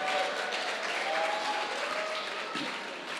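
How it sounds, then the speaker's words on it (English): Round of applause from the crowd at a design awards night, a steady wash of clapping across a large hall, moderately quiet, with faint voices underneath. "I'd like a big round of applause for Z Entertainment"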